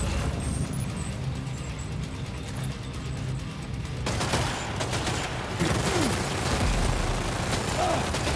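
In Death Stranding 2, a box launcher fires a rocket barrage: after a low steady rumble, a dense volley of rapid blasts and whooshes erupts partway through and keeps crackling loudly to the end.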